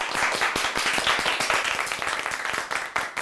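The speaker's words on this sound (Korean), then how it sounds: "박수 한번 주세요." A room full of company staff applauds at a workplace gathering, with dense, steady clapping that runs for about three seconds and has no talk over it.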